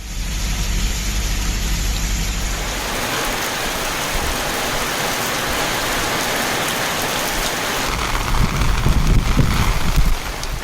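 Heavy rain falling across Tiruvallur and nearby areas of Tamil Nadu, a dense, steady roar of drops on surfaces that holds constant throughout and swells slightly near the end, with no voices.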